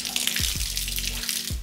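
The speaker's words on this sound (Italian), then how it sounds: "Adesso apriamo l'acqua." Water from a tap runs through a newly made hose extension, a faint steady splashing flow with a few soft knocks from handling, no talk.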